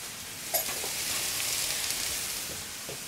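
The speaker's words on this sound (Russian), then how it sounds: "Отправляю морковь, сельдерей в сковородку." Onion, carrot and celery fry in a pan for chili con carne, giving a soft, steady sizzle with a few faint clicks.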